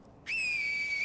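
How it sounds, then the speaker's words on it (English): After a brief quiet moment, a piercing finger whistle from the video game Sekiro starts abruptly and holds a steady high pitch, loud and close, with no voices. "The minute we lock on to somebody, you pull the finger whistle"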